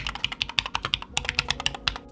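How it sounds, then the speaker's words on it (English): Rapid keystrokes on a Keychron K5 Max full-size 100% mechanical keyboard with aftermarket keycaps, a close, crisp run of clicky taps at an uneven typing rhythm, heard alone. "Typing on this is very satisfying, nice to type on"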